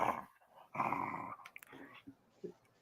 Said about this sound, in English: You hear Molly growling that she's got her ball